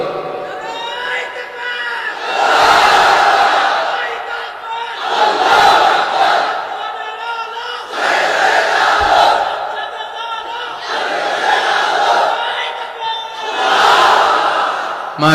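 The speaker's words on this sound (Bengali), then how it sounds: "তাকবীর পড়েন তো দেখি, আল্লাহর নামে পড়েন, লিল্লাহে তাকবীর" A large crowd at an Islamic sermon in Khulna roars Allahu Akbar in unison, four or five loud swelling chants rising and falling in a regular call-and-response rhythm with short pauses between.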